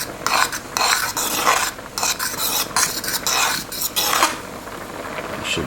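A utensil scrapes and stirs macaroni inside a Ninja Cooking System pot in repeated bursts, with clinks and rasping sounds close by and no talking.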